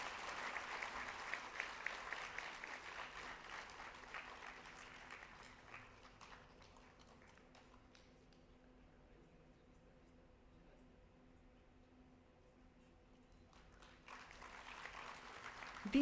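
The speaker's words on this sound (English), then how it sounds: "May I request our audience to express our gratitude through a big round of applause." Audience applause at the 31st Prof. G. Ram Reddy Memorial Lecture. Faint, distant clapping dies away to near quiet midway, then rises again briefly at the close.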